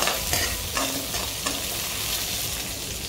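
Ambemohar rice dry-roasting in a pan over medium heat, a dense rustling hiss with the grains scraped and tossed by a spoon in several quick strokes.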